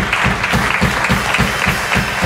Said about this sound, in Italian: visto che state applaudendo